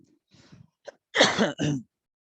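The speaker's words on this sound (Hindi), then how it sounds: "थोड़ा खांसी आ जा रहा है बार बार" A few short throat clearings followed by two harsh coughs, close and fairly loud, with no speech.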